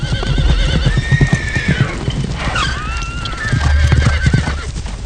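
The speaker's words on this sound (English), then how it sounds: "When they arrived, they found horses out in the yard." Horses in a ranch yard whinny loudly in long, wavering calls while hooves clop in an irregular rhythm close by, with no talking.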